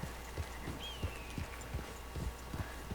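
Horse hooves clip-clop at a steady walking pace in Red Dead Redemption II, fairly faint, each footfall a soft distinct knock in an even rhythm, with a thin whistling tone passing in the background.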